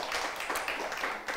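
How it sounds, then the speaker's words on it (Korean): Audience applause in a studio talk program, a dense wash of many hands clapping at steady loudness, brief and close, with no voices over it. "우리 박수 한번 보내주시기 바랍니다"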